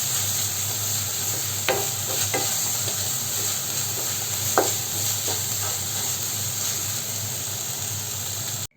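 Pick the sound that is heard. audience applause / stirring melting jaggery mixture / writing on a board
stirring melting jaggery mixture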